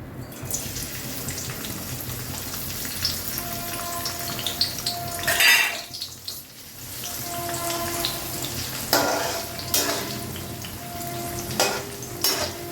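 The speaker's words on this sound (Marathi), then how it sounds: "आता मी हे मनुके टाकते तेलामध्ये" Raisins dropped into hot oil for a crispy thin poha chivda sizzle and bubble steadily, with occasional louder crackling bursts and faint stirring or utensil sounds nearby; no talking.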